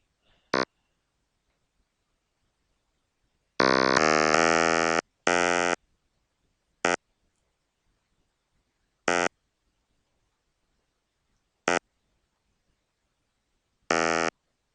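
Short, buzzy electronic synth bursts sound in a sparse, uneven pattern, bright and chiptune-like, separated by silence.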